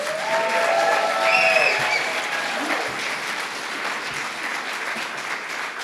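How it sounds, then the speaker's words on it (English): An audience at a community meeting in Running Springs applauds firefighters steadily, many hands clapping in a dense, continuous patter that stays fairly level and moderately loud throughout. "a round of applause for the fire guys, please."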